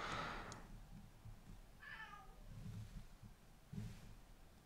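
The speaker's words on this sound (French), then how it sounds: "J'espère que vous entendez ces miaulements." A cat meows a couple of times, a drawn-out mew mid-clip and shorter faint cries around it, in a quiet room.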